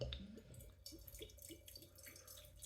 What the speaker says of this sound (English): Right, let's try and pour.